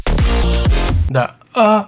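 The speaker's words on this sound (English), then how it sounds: "Like there's these vocal chops in here." Punchy electronic track with chopped vocal stabs blending real choir and vocoder, short pitched vocal bursts over a thumping low beat, then a sparse gap and another vocal hit.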